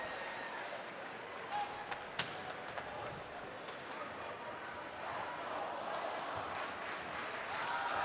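College hockey crowd at Amsoil Arena cheering and applauding a Bulldogs goal, a broad, steady roar of applause that grows slightly louder toward the end, with a few sharp knocks near the start.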